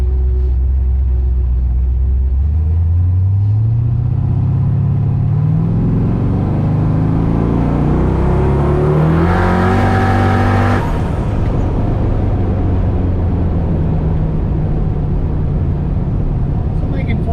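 Twin turbo LS engine in a Ford Ranger revving up, a loud close rumble climbing steadily in pitch to a peak, then dropping back to a lower drone, with a voice talking over it.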